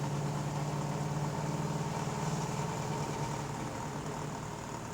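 A 1963 Ford Galaxie 500 with a stroked engine runs steadily on the road through its gears, a continuous mid-pitched drone with faint vibration and no talk.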